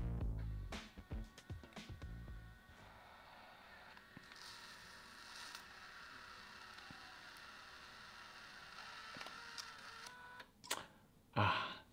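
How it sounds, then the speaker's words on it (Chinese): A Fujifilm instax mini Evo instant camera prints a selfie, giving a steady mechanical whir with scattered clicks and a brief louder burst near the end as the photo is ejected, close and fairly quiet, with no talking. "准备打印，请稍后。"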